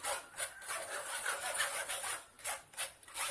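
Blended tomato pulp is pushed and scraped through a kitchen strainer for homemade tomato sauce, giving a run of raspy, wet rubbing strokes that come in bursts at a steady rhythm, close and fairly loud, with no talking.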